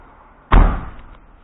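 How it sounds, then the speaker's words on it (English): A car tailgate is swung shut during an MOT topside inspection and lands with one sharp, heavy slam and a brief rattling decay close by, after a quiet lead-in. "we can go ahead and close the tailgate down"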